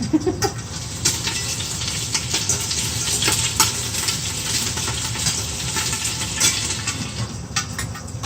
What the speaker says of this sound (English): There's oil is splattering everywhere